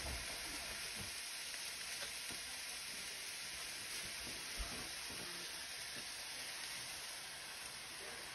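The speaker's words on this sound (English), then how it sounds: "I'm gonna add the fun sauce." Sauce sizzles and fries in a pan of Shanghai noodles, wild mushrooms and leeks over low heat, a steady dense crackle with faint stirring clicks throughout, no voices.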